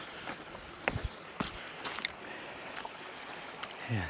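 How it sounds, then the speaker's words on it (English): Faint, steady trickle of a stream carrying water down from Bonita Falls at Lytle Creek in the San Bernardino National Forest, with a few soft scuffs and knocks nearby. "This must be water from the waterfall."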